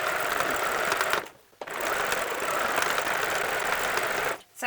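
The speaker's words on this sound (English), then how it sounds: "as I'm sewing, I'm just making sure it's catching both layers" A sewing machine stitches through both fabric layers of a book bag, a steady close buzzing whir that stops briefly just after one second, starts again and runs until a short pause near the end.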